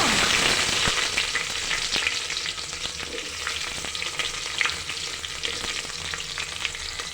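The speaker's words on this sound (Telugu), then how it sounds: "ఇదైతే ఫ్రై అవ్వాలి ఇప్పుడు బ్రౌన్ కలర్ వచ్చే వరకు ఫ్రై తీసుకోవాలండి" Onions frying until brown in a pan with whole spices for pulao, a continuous moderate sizzle with crackles and occasional stirring clinks, no talking.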